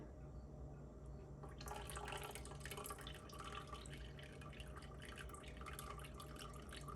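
Strained elderberry juice pours carefully into a pot, a soft continuous trickle and splash of liquid, quiet and close, building slightly after the first couple of seconds and running steadily to the end.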